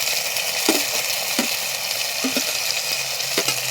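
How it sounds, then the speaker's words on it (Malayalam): Chopped tomatoes frying with shallots in hot oil in a pan, giving a steady close sizzle broken by a few short scrapes and clicks of stirring. "ഇനി ഇതിലേക്ക് അരിഞ്ഞു വെച്ച് തക്കാളി കൂടി ഇടുന്നുണ്ട്."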